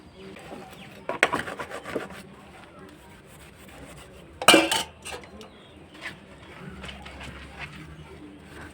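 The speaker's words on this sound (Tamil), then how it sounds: "அந்த சாம்பல் எடுத்து நம்ம லைட்டாக தண்ணி தெளித்து சோப்பு கூட தொட்டு தேய்ச்சினாவே சூப்பராக இருக்கும்" Metal cooking pots scrubbed by hand with wood-fire ash, a little water and soap in a village kitchen; uneven rubbing and clinking of metal comes in bursts, with a sharp louder scrape midway, against a quiet outdoor background.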